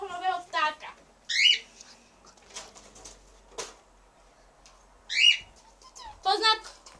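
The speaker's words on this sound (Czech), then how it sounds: "ukážu vám mojeho nového ptáka" A pet bird gives harsh squawks and chirps in scattered bursts, loud and close, with quieter gaps between the calls.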